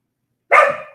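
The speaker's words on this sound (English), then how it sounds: "what is she barking at?" One short, sharp dog bark, close and fairly loud, after a moment of silence.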